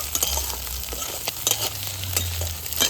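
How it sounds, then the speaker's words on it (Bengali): Puffed rice and egg being stirred and fried in a pan over high heat, with a steady sizzle beneath repeated scraping strokes of the spoon at close range, no voices. "একসঙ্গে সব জিনিসগুলো মিশিয়ে নেব"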